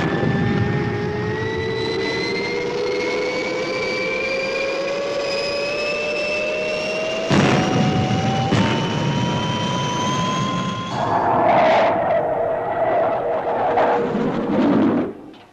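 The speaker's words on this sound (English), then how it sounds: "Fireball XL5 free of Earth's atmosphere." Roaring engine of the Fireball XL5 spaceship from the puppet science-fiction series, a loud continuous jet-like drone with rising whining tones that runs throughout, shifting pitch and intensity partway through.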